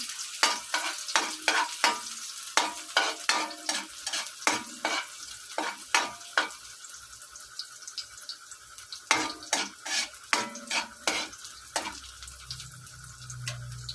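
Garlic sautéing in a pan for a simple budget home-cooked dish: steady frying sizzle under repeated sharp, rhythmic scrapes and clinks of a spatula stirring against the pan, close and fairly loud throughout, with no talking.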